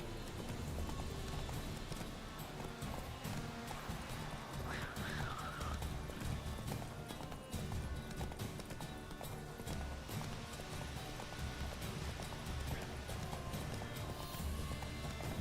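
Geralt's horse Roach from The Witcher 3 gallops with steady hoof clip-clops and a brief whinny, set against a busy game soundscape of wind and ambient music at constant loudness.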